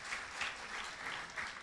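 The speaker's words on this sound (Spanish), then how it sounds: "Denle un aplauso al Señor, por favor" A church congregation applauds during an evening service, a soft, steady wash of clapping heard alone without voices.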